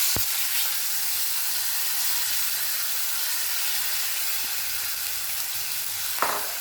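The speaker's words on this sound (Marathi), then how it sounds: "आता ही डाळ घालून द्यायची याच्यात" Lentils land in hot oil seasoned with cumin, asafoetida, curry leaves and turmeric, giving a steady, close sizzle and hiss that lasts throughout, with a couple of faint clinks near the end.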